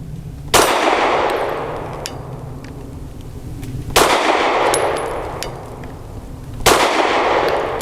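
An FMK 9C1 G2 pistol firing at a shooting range, three loud, sharp shots spaced a few seconds apart, each followed by a ringing decay.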